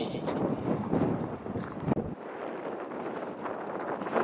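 Gusty wind buffets the microphone on the cold hilltop of Nicky Nook in Lancashire during a walk, a loud rushing roar that drops abruptly to a lighter, steadier breeze.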